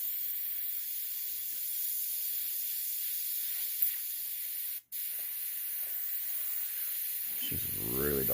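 Paint sprays from an airbrush in one long, steady airy hiss, close and continuous, with a single brief break partway through and a short voice at the end.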